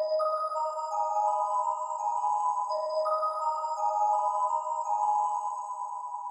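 A synth melody pattern for a hard trap-style beat plays a short phrase of held, bell-like tones that repeats about every three seconds, steady and clear with nothing else heard.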